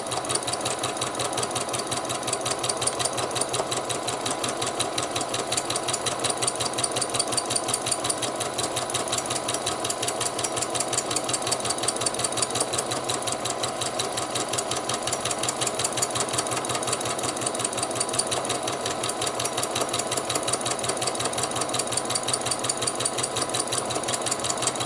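Sewing machine stitching free-motion embroidery on organza: a continuous fast mechanical chatter with an even needle rhythm, close and steady for the whole stretch, with no one talking.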